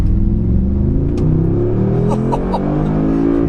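A 2019 Mercedes-AMG G63 with a 9-speed automatic accelerates from a rolling start, its engine droning loud and steady as the pitch climbs smoothly through a held gear.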